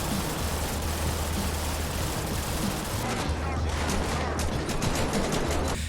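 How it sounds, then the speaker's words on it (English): Rapid gunfire from a rocket launcher and a minigun fitted with modded weapon sounds in GTA 5, a dense, continuous barrage of shots with a low rumbling undertone, loud and sustained throughout. "the RPG and the minigun are just some of the many weapons that have been updated with new sounds"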